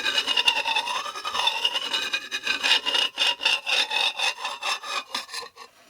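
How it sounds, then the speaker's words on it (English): A flying-saucer style sound effect made by a sliding action, a continuous rubbing, scraping drone with wavering pitch that breaks into quick rhythmic pulses toward the end, loud and close with no voices. "the interesting sound that the sliding action created"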